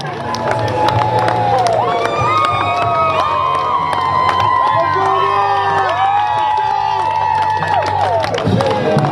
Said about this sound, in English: You can see these players arriving here, coming out the window, all the cheering going on as we speak.